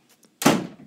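A door in a horror video game shuts with one abrupt heavy thud that tails off quickly, loud and close, preceded by two faint ticks.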